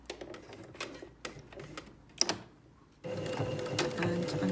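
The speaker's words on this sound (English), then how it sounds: "And I'm just sewing around the perimeter" A sewing machine stitches around the edge of a strip of Velcro on a fabric bottle gift bag, with a few short clicks and handling knocks, then a steady close whir of continuous stitching.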